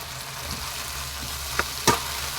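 Tomatoes, onions and green chillies sautéing in a pan, with a continuous close hiss of frying and a couple of sharp utensil scrapes near the end.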